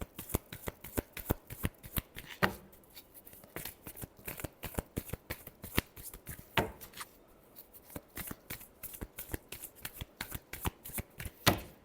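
Tarot cards being shuffled by hand, a steady run of quick riffling flicks and soft slaps repeating throughout, close and fairly loud with no talk over it.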